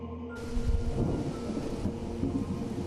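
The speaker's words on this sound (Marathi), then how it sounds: "बाहेर मुसळधार पाऊस कोसळू लागलेला सरींचा आवाज कांठाळ्या बसवत होता" Heavy rain pours steadily while low thunder rumbles beneath it, forming a full storm ambience that starts abruptly and runs on with no voices.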